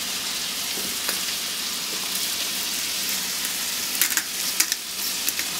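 Onions fry in a pan with a steady broadband hiss, while a few sharp crackles and pops rise above it toward the end.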